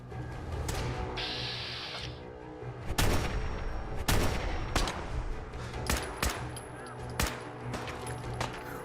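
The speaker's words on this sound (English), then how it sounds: "Ooh, 3 shots." Gunfire in the Fallout 4 VR game: sharp, loud shots ring out in a loose series across the scene, several close together, over a busy game soundscape.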